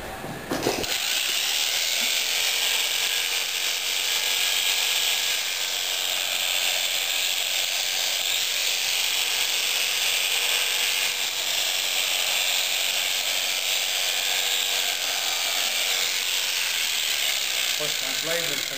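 A fiber cutting machine runs with slightly low tension, giving a steady, loud mechanical whir with a high whine, continuous and unbroken throughout.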